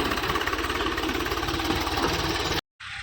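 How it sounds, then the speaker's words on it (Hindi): A tractor engine runs steadily and loudly while sowing corn seed together with fertilizer in a farm field, with a continuous throbbing drone that cuts out briefly near the end. "ये देखिए आ गया है ट्रैक्टर"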